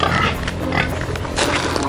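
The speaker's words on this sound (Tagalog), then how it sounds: "magpapakain tayo sa alaga nating baboy" Pigs on a farm at feeding time make a loud, dense, continuous mass of grunting and squealing close by.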